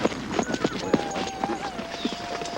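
Horses' hooves clip-clop in a quick, uneven rhythm of sharp knocks while people talk over them.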